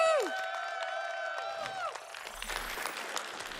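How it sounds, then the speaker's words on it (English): Crowd applause and cheering from a live Games Done Quick marathon audience after a Tomb Raider II speedrun. A sustained tonal sound fades out first, then dense clapping and whoops fill the rest, steady and fairly close. "Can we keep that applause going?"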